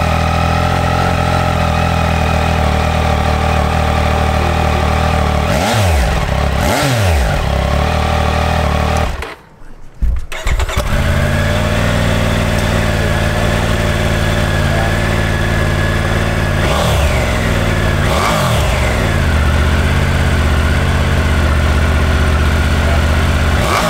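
Triumph Tiger 900 triple-cylinder adventure motorcycle engine idling loudly up close, blipped in several sharp revs that rise and fall in pairs, with a brief drop near the middle before the steady idle resumes.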